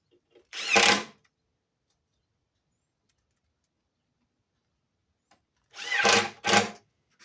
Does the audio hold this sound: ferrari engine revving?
no